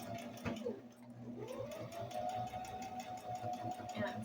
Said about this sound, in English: with your sewing machine